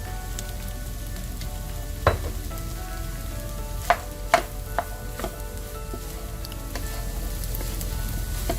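Rice, beef and peppers sizzle and fry in a pan, a steady hiss under a few sharp clanks of a utensil stirring against the metal.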